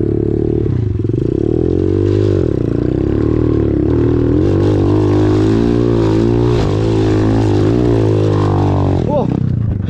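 A small Xmotos 125cc motorcycle engine runs steadily and loud, its pitch rising and falling as it revs.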